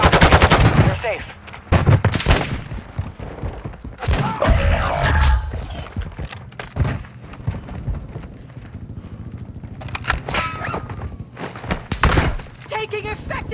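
Call of Duty gunfire crackles in rapid bursts and scattered shots, with thumps and impacts between them and game voice callouts mixed in.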